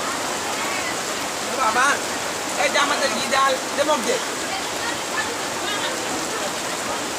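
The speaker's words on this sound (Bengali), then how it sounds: "বৃষ্টি শুরু আসছে।" Heavy rain during a storm at night, a dense constant roar of falling water, with a person speaking intermittently over it.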